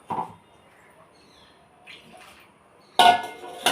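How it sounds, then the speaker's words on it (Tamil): Short splashy bursts of soaking water from Mappillai Samba rice being poured into a container, with a quiet stretch between them and a louder pour near the end. "பாருங்கள் இந்த தண்ணியை அப்படியே ஊற்றிடலாம்"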